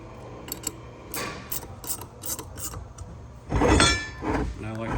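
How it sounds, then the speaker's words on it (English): A 1/2 inch wrench tightens bolts and nuts while a Cryo-stem is fitted to a Flo-Tite Tri-pro unit. Close metallic rasping and a few light clinks come in uneven strokes, and a voice is heard briefly near the end. "now we're going to tighten these bolts down and tighten the nuts. And I like to use a 1/2 inch wrench."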